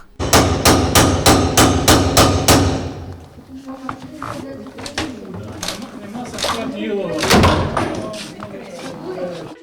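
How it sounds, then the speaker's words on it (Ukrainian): Bailiffs break open doors at the journalists' union in Rivne region, Ukraine, starting with a rapid series of loud, regular hammering blows followed by irregular thumps and bangs, with voices in the background. "почали взламувати двері"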